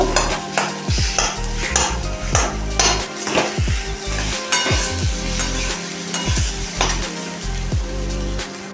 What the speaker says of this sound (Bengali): এবার আমি এই আলুগুলোকে এই কড়াইয়ের মধ্যে ছেড়ে দেব। বেশ ভালো করে একটু আলুগুলোকে মাখিয়ে নিব।